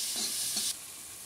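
Onions frying in a pan on a desi stove for paneer bhurji, a bright steady sizzle for about three quarters of a second that then drops to a softer hiss, with a couple of faint scraping stirs.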